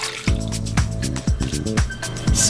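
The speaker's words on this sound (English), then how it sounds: "Squeeze as much water out as possible." Damp face cloth wrung out by hand, a series of short wet squishing squeezes and drips repeating roughly every half second, close and fairly loud with no talk.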